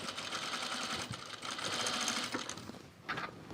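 A sewing machine runs a long straight seam in linen on a cocoon project bag, a close, continuous rapid stitching whir that dips briefly near the end and then resumes.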